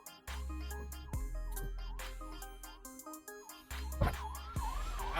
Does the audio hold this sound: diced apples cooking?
no